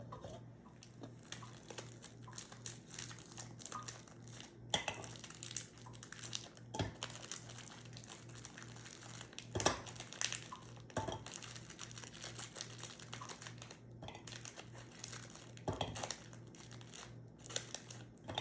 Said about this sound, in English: I'm gonna use about 8 pre-peeled garlic cloves, and I'm gonna mince it up